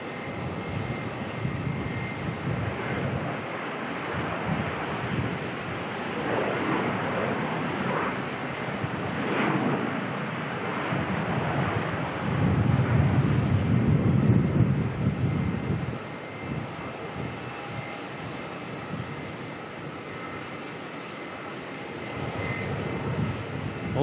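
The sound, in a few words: Virgin Australia Velocity airliner landing, arriving from Perth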